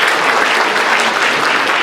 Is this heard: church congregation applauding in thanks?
yes